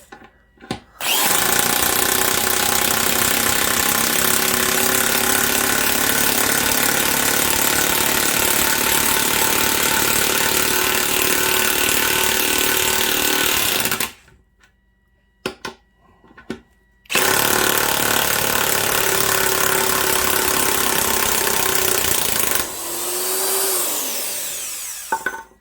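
A loud impact wrench whines steadily for a long stretch, cuts out briefly, then runs again before spinning down near the end.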